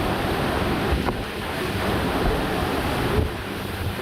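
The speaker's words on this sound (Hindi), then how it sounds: "बालासोर जिले के चांदीपुर ब्लॉक में तूफानी हवाओं के मिजाज को इन तस्वीरों में महसूस कर सकते हैं।" Strong cyclone winds of Cyclone Yaas at Chandipur in Balasore, Odisha, a loud continuous roaring rush with surf-like surges, steady and close to the microphone throughout.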